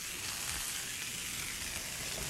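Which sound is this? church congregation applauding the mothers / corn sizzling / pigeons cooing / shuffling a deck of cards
corn sizzling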